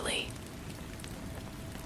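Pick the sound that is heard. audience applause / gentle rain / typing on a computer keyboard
gentle rain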